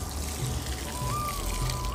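Water poured from a watering can onto vegetable seedlings in a home garden, a steady soft trickle and splash heard alone at close range.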